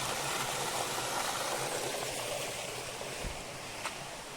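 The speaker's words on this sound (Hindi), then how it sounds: "ये कितना ज़्यादा स्रोत का पानी फूट रहा है यहाँ से" Spring water gushing out beside rice fields, a steady broadband rush of flowing water close by, continuous throughout with a faint thump near the end.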